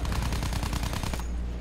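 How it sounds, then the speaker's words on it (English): Rapid machine gun fire from the Battlefield 1 video game, a loud, sustained burst of tightly spaced shots that cuts off sharply near the end, with no talking. "You're the one with the freaking machine gun."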